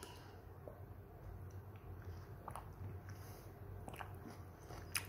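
Soft, close chewing and biting on chewy corn bits in a canned Dydo corn drink from Japan, faint irregular crunches over a low background hum, no talk.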